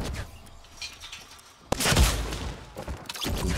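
Gunfire in the video game Fortnite Battle Royale: quiet game ambience, then a sudden loud burst of rapid shots from about halfway, with further sharp reports near the end.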